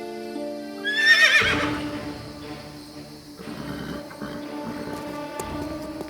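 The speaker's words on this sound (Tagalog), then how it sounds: "Ang mga kabayo ni Panginoong Bodo, hindi pa ako nakakita ng katulad nila." A loud horse whinny rises and falls, followed by snorting, shuffling and restless movement of horses nearby.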